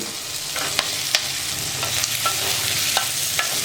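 Tomato and onion frying in oil in a kadai with garlic, dried red chillies and turmeric, a steady close sizzle with scattered sharp clicks of stirring throughout.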